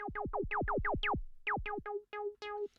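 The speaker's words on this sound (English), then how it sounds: "Let's turn up the resonance a little bit." Synthesizer plugin with the filter resonance turned up, a rapid run of plucky notes whose resonant tone sweeps downward on each hit, then a few longer held notes, played alone.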